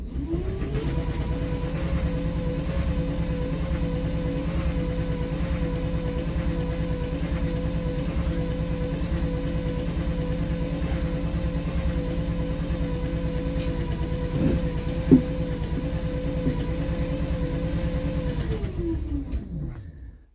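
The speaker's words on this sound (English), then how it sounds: "So now I'm going to try and pedal at 60 RPM." A spin bike driving an electricity generator, pedaled at a steady 60 RPM, gives a constant droning hum with a faint whine that runs unbroken for about eighteen seconds, then winds down and stops.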